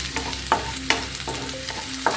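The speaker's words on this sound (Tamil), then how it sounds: "வதக்கட்டுங்க." Chopped garlic sautés in a pan for a garlic pepper mushroom fry, a steady close sizzle broken by a few sharp clicks of a spoon stirring and scraping, with no talking.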